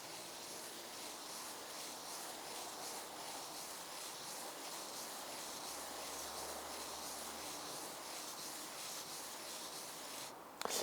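A stone rubbed steadily back and forth on sandpaper, a continuous close, even scraping hiss that holds level for about ten seconds with no voices.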